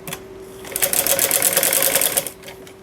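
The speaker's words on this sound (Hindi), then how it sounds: "और 1/2 इंच के ऊपर हम सिलाई लगाएंगे" Sewing machine stitching salwar panels with a half-inch seam, a close rapid mechanical chatter that starts up, runs steadily for about two seconds, then stops.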